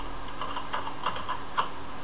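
Light, quick clicks of keys being tapped on a computer keyboard, soft and close, in an otherwise quiet room.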